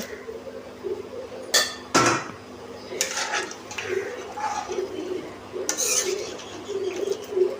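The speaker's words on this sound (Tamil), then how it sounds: "நல்லா கிளறி விடுங்க" Chicken curry with milk added being stirred in a pot, giving intermittent clanks and scrapes of a utensil against metal among a low background hum, close and fairly loud, with no talk.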